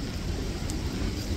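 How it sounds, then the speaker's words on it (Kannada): Rain falling on a foggy hill road during an off-road trip near Yellapur, a steady dense hiss with low rumble, constant and close, with no voices. "ಮಳೆ ಬೇರೆ ಬರ್ತಾ ಉಂಟು."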